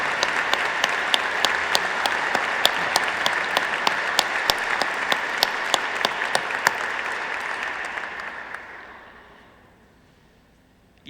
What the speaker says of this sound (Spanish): les demos a todas y a todos un gran aplauso